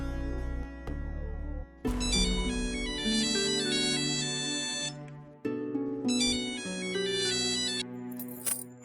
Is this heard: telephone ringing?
yes